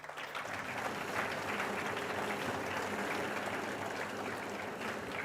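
An audience at a mathematics foundation awards function breaks into loud, continuous applause for the competition sponsors, dense clapping that holds steady for the whole stretch.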